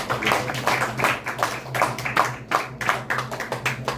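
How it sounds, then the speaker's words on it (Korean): A small church congregation claps steadily for a few seconds, the applause moderately loud with a low hum underneath and no voices. "다 같이 박수 한번 해주시면 감사합니다"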